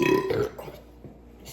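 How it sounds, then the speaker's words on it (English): A loud, close burp right after drinking tropical mix Sprite soda, one long rumbling belch that fades out, with no talk over it. "That's a burp."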